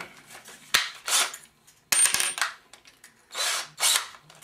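Power drill with a 1/8-inch bit boring into a wooden backboard for a tree-mounted tripwire, several short, close, loud bursts of whirring with brief pauses between them.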